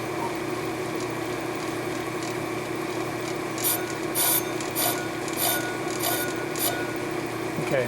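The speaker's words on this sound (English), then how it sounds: "I'm going to do a scratch test to see if the runout is due to the setup" A brake lathe hums steadily while resurfacing a VW flywheel, and a few short, bright scratching contacts from the cutting tool come in the second half.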